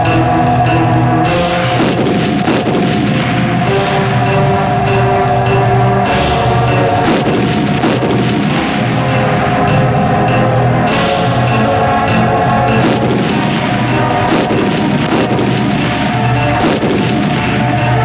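Heavy cannon fire rolls through a battle scene in a historical TV drama about Maharaja Ranjit Singh: repeated loud booms and thuds every couple of seconds, layered over battle noise.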